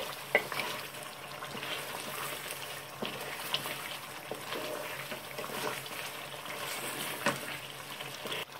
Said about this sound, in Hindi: अब हम इसको आंच थोड़ी सी तेज करके इसको थोड़ा भून लेंगे